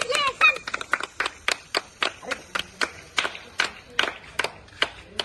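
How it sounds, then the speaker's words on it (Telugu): Several people clap at a celebration, close by and uneven, in sharp separate claps with brief cheering or voices at the start. "ఈ సౌండ్ ఎట్లా వస్తుంది క్లాప్ కొడుతుంటే?"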